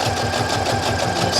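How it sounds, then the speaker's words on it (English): Sewing machine stitching a pocket onto fabric, a steady rapid mechanical whir with even rhythmic pulsing, close and continuous for the brief stretch. "Actually, I'm sewing it to the fabric."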